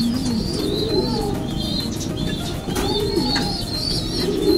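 Racing pigeons bred from a champion producer coo steadily and continuously, low throaty calls repeating in a close loft with occasional higher chirps over a constant background.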